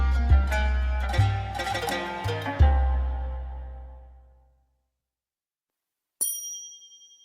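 Plucked strings of a kanun, the traditional Turkish zither-like harp, ring out in a few struck phrases with long sustained decay into silence, followed by a brief bright metallic ping near the end.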